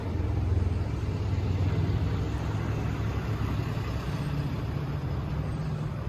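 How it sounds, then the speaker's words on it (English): An International DT466 wet-sleeve inline six-cylinder diesel in a 2005 International 7300 crew cab pickup idles with a low, steady, even rumble, close and unbroken, with no voices. "DT 466 wet sleeve inline 6-cylinder motor, International's commercial engine."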